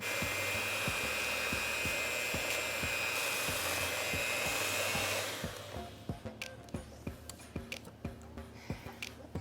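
Electric hand mixer whirring steadily through Belgian waffle batter for about five seconds, then stopping, followed by a series of sharp taps and clinks of utensils against the bowl.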